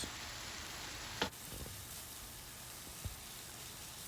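Minced meat with onions, salt and black pepper frying in a pan for Karadeniz-style pide filling, a faint steady sizzle with a couple of brief scraping stirs, quiet and close.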